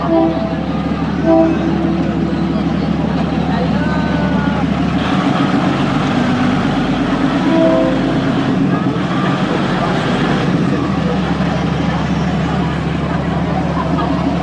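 A train rumbles past close by through a market set on the railway tracks in Samut Songkhram, Thailand, a steady heavy roar with metallic clatter and a brief horn-like tone, while people talk over it.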